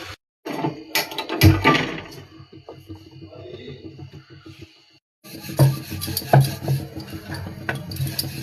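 Cooked vegetables scraped from a pan into a bowl with a spatula, a close run of rasping and scraping strokes, briefly pausing before resuming with more clinks and scrapes, with no talking.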